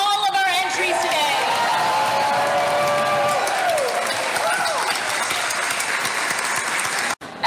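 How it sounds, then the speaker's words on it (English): Expo crowd applauds and cheers for cosplay contest entries, sustained loud clapping with whoops and shouted voices, ending with a brief drop near the close. "Can we get a big round of applause for all of our entries today?"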